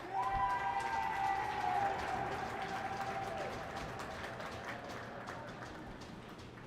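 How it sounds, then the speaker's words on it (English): In an arena at a college ice hockey game, NJIT versus Susquehanna in Newark, a crowd claps for a senior player, distant and fairly faint, with sustained tones over it early before the clapping slowly tapers off. "please give a round of applause to forward number 7,"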